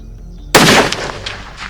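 A single sharp, very loud rifle shot from a Sako TRG in .338 Lapua cracks after half a second of quiet, then a rolling echo decays outdoors over the following second.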